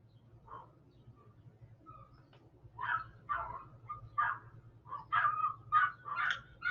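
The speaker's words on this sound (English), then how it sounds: "Anytime somebody walks around, the neighbor dog and our dog get really excited." Two dogs, one of them a neighbor's, bark and yip excitedly in short irregular bursts, moderately distant, growing busier toward the end over a low background hum.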